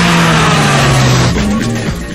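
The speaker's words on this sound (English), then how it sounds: "the coolest the Stiggers ever looked, but in the Healey, he was in good shape through the corner." Healey sports car racing hard through a corner on a test track, its engine droning loud and steady with a falling then rising pitch as it works through the bend, heard alone.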